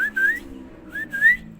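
A person whistles a call for a pet bulbul (kutilang) bird: two clear, rising, slightly wavering whistled phrases separated by a short pause, fairly close and fairly loud, with no talking.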